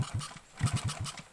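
A motorcycle taxi engine turns over in a quick series of low, rhythmic pulses, close and alone.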